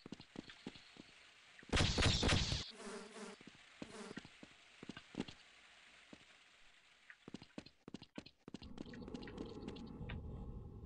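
Flies buzz in Half-Life, a dense insect drone swelling loudly for about a second, then fading into scattered clicks and low rumbling game ambience.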